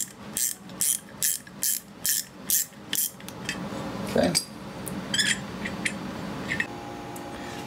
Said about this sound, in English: I'm gonna need to remove this piece here also from the carrier with a 12mm wrench.